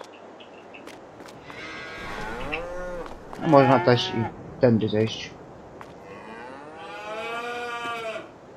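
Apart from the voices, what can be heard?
cows mooing in the video game Farming Simulator 22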